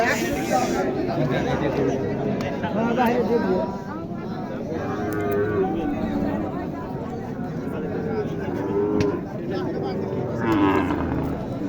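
Cattle moo repeatedly at a busy cattle market, several drawn-out calls rising and falling close by, mixed with people talking and general crowd chatter throughout.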